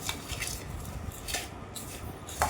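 Dry sukhi bhel of puffed rice and spices being tossed and mixed in a bowl at home, giving a steady close rustle with light clinks and scrapes of a spoon against the dish.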